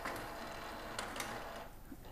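Epson L4150 inkjet printer running off a network status sheet, a steady mechanical whir with small clicks and ratcheting ticks of the feed and print head, close and continuous, fading near the end.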